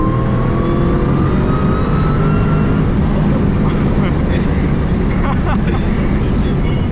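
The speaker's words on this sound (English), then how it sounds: "That sounds nice on those rev match downshifts too." A boosted 700+ horsepower Terminator Cobra roars continuously from inside the car under acceleration, loud and close, with rising engine pitch and voices talking over it.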